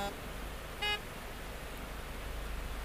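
A single short truck horn toot sounds in Euro Truck Simulator 2 on the Dhimbam ghat section, brief and clear over a steady engine and road hum.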